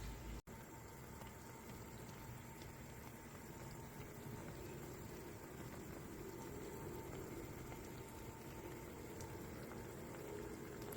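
A pot of sinigang na bangus (milkfish sour soup) bubbles and simmers steadily, a continuous soft churning of boiling liquid with no voices.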